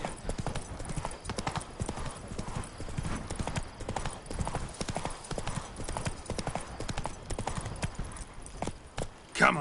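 The horse Roach in The Witcher 3 trots under a rider, with a steady, rapid run of hoofbeat clip-clops that carries on evenly throughout.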